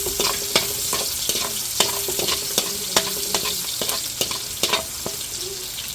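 Garlic and onion are sautéed together in oil left over from frying, with a continuous crackling sizzle and frequent sharp spatula scrapes and clacks against the pan. The sound is close and fairly loud, with no talking.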